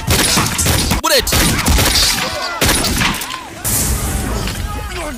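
Gunfire effects from a Luganda-dubbed action movie: loud, dense bursts of shots and impacts fill the clip, with a brief dropout near one second, mixed under a narrator's voice.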